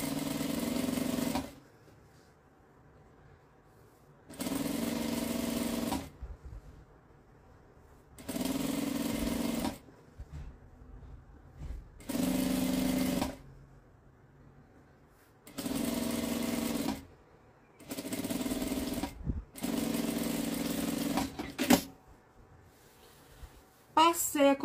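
A sewing machine stitches a small fabric bag for holding a clothes iron, running in about eight even bursts of a few seconds each with pauses between, as someone talks in the gaps.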